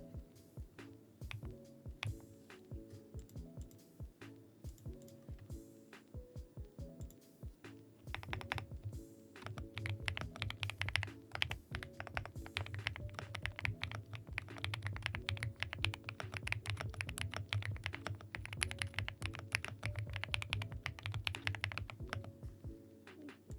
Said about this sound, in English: Enjoy the chill, quiet keyboard sounds today for a couple hours.